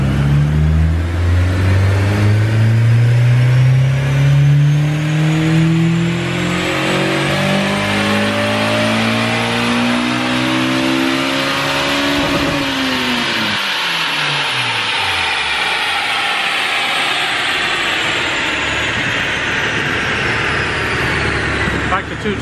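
Honda S2000 engine on a dyno pulling hard from low revs up to a screaming high-rpm wail, then snapping off and falling back down in a long descending whine, loud and close.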